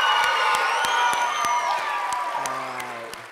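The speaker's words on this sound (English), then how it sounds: "And finally, a big round of applause for" A crowd of children and adults cheers and applauds for staff member Lorna, loud shouting and whooping riding over dense clapping that gradually tapers off.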